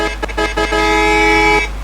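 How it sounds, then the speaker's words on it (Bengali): A bus horn sounds loud and close: a few short toots, then one long sustained honk that cuts off cleanly. "হর্ন মারেন"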